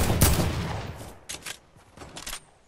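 Rapid bursts of gunfire in a video game, loud and close at first, then a few shorter volleys separated by brief gaps, with no talking.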